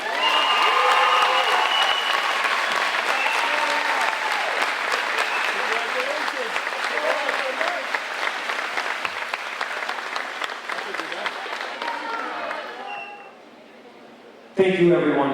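Sustained, dense applause from a large crowd at a high school graduation ceremony, loud and steady for about thirteen seconds before dropping away.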